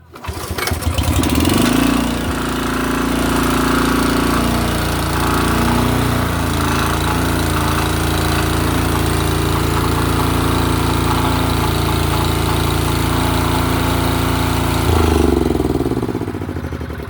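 A Honda HS928 snowblower is pull-started and then runs steadily, its loud engine roaring close by for about fifteen seconds before easing off near the end, with no talk over it.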